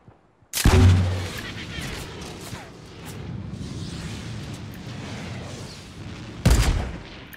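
Gunfire and explosive bursts in the Fortnite Battle Royale video game: a loud blast at the start, a steady rumble of distant shooting underneath, and a second sharp boom near the end, with no talk.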